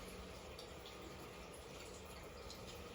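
Water runs steadily from a tap in a chemistry classroom and splashes onto a surface, a continuous close hiss and spatter without pause.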